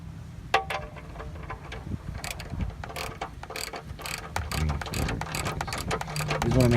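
A wrench clicks and ratchets while tightening a bolt during a car oil change, giving a run of irregular close metallic clicks and clanks over low background rumble.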